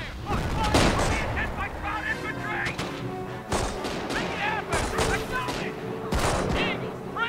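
Company of Heroes gunfire crackles in a Normandy village battle, with bursts of rifle and machine gun shots and heavier booms mixed under shouting soldier voices.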